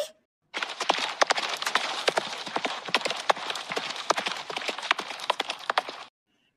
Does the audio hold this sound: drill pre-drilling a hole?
no